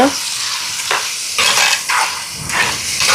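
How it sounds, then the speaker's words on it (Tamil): Prawns and salt stirred into a pan of crab curry, giving a steady loud sizzle and frying hiss with a few bursts of scraping as the spoon moves through, with no talk over it. "ராலை சேர்ப்போம் உப்பு சேர்ப்போம் சேர்த்துட்டு ஒருக்கா கலந்து விட்டுட்டு"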